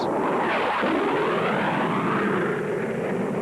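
Land speed record car streaking across the Bonneville salt flats gives a loud, continuous roar that swells and sweeps in pitch as it passes, with a harsh rushing engine tone filling the whole stretch and no voices.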